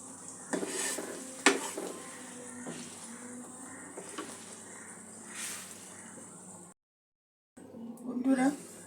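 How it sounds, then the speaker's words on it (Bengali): Chana dal kachori frying in hot oil over a medium gas flame, with a steady soft sizzle, occasional clinks and stirring of utensils, and a brief gap of silence near the end. "গ্যাসের ফ্লেমটা মিডিয়াম রাখতে হবে যাতে সব দিক সমানভাবে ভাজা হয়ে যায়।"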